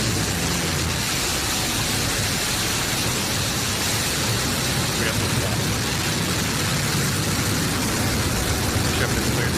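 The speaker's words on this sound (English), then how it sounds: "And New Shepard has cleared the tower on our way to space with our first human crew." A New Shepard rocket engine at launch gives a continuous, loud, broadband roar that fills the whole stretch without letup.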